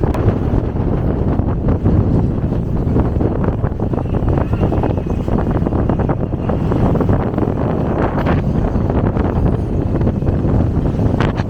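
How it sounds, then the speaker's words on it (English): Loud, constant wind buffeting the microphone, a heavy low roar with gusty rumbles that never lets up. "Mate, this is so windy, bro."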